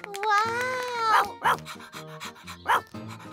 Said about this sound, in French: Rex est un chien de berger.